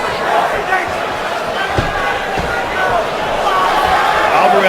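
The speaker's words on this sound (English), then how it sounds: "Crowd oohing and eyeing with every strike thrown here down the stretch." A UFC crowd at the Eddie Alvarez vs Justin Gaethje fight murmurs and swells with oohs at strikes, a broad arena roar sitting under a commentator's steady talk.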